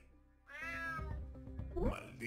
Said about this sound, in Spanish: Maldito gato.